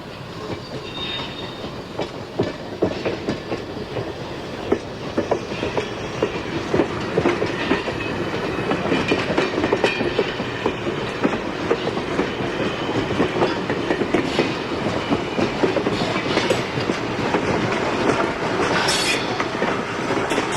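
A train rumbles steadily along the rails with rhythmic clickety-clack from the wheels and occasional faint squeals, continuous and fairly loud throughout.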